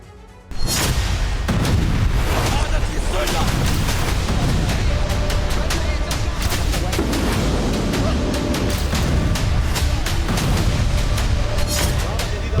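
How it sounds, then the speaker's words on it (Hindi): Heavy explosions from Israeli bombardment in Syria boom one after another in a dense, continuous barrage, loud and rumbling with sharp blasts throughout. "एक के बाद एक धमाके हो रहे हैं।"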